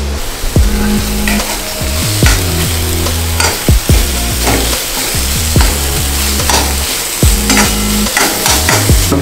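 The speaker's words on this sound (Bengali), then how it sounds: "দিয়ে একটু ভালোভাবে নাড়ছি" Turmeric mix and chili powder frying in a hot pan, stirred with brisk, rhythmic scraping strokes over a loud, continuous sizzle, close up and without talk.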